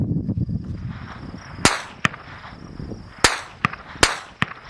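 Sharp supersonic cracks of rifle bullets passing close by, several spaced over a few seconds, each followed a moment later by the duller, more distant thump of the rifle's report.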